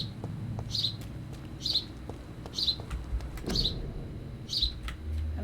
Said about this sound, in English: Little birdie, you need to hush.